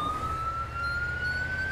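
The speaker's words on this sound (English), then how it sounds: "This ambulance is slow as fuck." Ambulance siren in a video game, one long steady wailing tone that rises slowly over a low rumbling engine, moderately loud with no talk.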